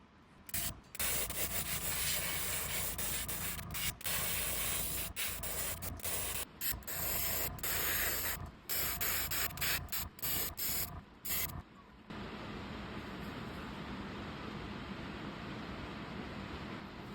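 An airbrush sprays a white base coat onto a wooden underspin crankbait in short hissing bursts with brief pauses between them, close and fairly loud. It ends in a quieter continuous hiss.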